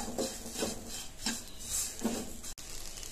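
Banana and grated coconut are sautéed in a pan, with a spoon scraping and stirring in four or five rhythmic strokes against the cookware, fairly quiet and free of talk.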